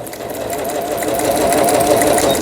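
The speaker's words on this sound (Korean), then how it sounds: "지그잭 바느질이 되고 있습니다" A Juki home sewing machine runs steadily at moderate speed, stitching a quilting zigzag seam; the close, continuous motor whir and rapid needle clatter carry on without pause and without talk.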